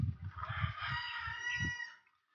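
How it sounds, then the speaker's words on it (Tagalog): A rooster crows once nearby, a long drawn-out call rising and trailing off, with low clucking pulses beneath it. "Mga manok na naman. Kokorokok daw."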